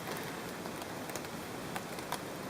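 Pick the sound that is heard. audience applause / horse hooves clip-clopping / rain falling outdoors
rain falling outdoors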